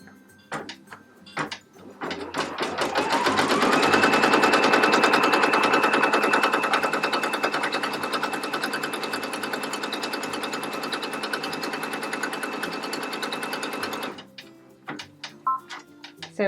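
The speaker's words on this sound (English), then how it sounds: "So it just stitched the K" A Brother Persona PRS-100 embroidery machine stitches a letter with a close, steady, rapid mechanical ticking and whirring that builds over the first few seconds, runs continuously for about ten seconds, then stops, leaving scattered clicks.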